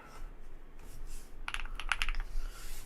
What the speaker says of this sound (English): Alright, now I gotta test the keys.